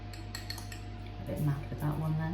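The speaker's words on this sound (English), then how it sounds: "sprinkle them with some sugar" A spoon taps and clinks lightly against a dish while sugar is sprinkled over gluten-free raspberry buns, the soft metallic ticks close and intermittent over a steady low background hum.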